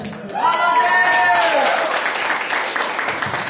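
An audience at a toastmaster-hosted Kazakh event bursts into steady applause, loud and close, with a voice rising briefly at the start before the clapping carries on.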